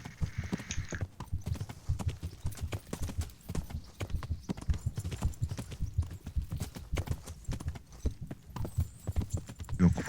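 A ridden horse's hooves beat out a steady, even trot in Kingdom Come: Deliverance, the rhythmic clopping close and continuous, with brief higher tones layered above near the start and end.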